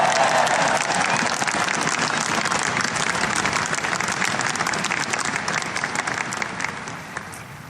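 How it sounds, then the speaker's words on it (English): Large audience at a political speech applauds Air Force Academy graduates with sustained, dense clapping, loud at first and gradually tapering off toward the end. "Big round of applause."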